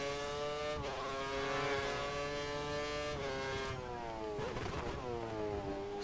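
F1 race car engine in F1 2013, a high, steady whine that climbs through the revs, drops sharply on each gear change and rises again, loud and close with no talk.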